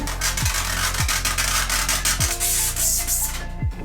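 A very sharp non-serrated knife draws repeatedly across tough van floor material, giving a steady rough scraping with a few strained squeaks, loud and close.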